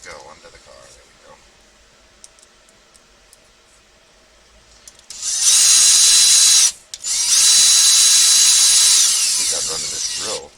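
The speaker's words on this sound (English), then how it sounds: "We got running this drill." An electric drill whirs loudly in two long bursts with a brief pause between, used while assembling a Tekno EB48 1/8-scale RC buggy, after quieter handling noises at the start.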